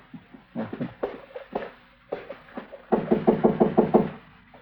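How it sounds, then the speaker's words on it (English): Knuckles rap on a door in a few short groups, with a louder, faster burst of about seven knocks at the end, close and clear in a quiet room. "go ahead and knock"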